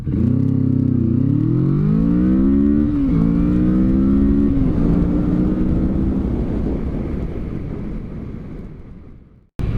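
Kawasaki Vulcan S motorcycle engine revving up loudly and close, with rising harmonic pitch steps through gears over several seconds, then fading slowly as it pulls away.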